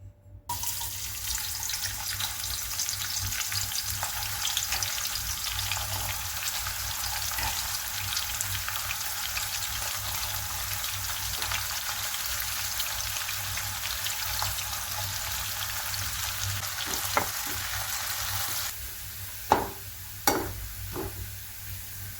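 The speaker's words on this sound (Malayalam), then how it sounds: "അത് ഇതുപോലെ എണ്ണയിലിട്ടൊന്ന് ചെറിയ രീതിയിലൊന്ന് വറുത്തെടുക്കണം" Sliced shallots frying in oil, a steady hissing sizzle that fills the whole stretch, with a few sharp clinks and stirring taps near the end.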